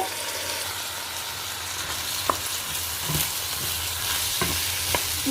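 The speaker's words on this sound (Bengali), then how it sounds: "চাউল এবং ডাউলটাকেও ভালো করে ভেজে নিব" Rice and lentils fry and sizzle in a nonstick pan for khichuri, a steady close hiss with occasional scraping stir strokes and light clinks from the spoon, no voices.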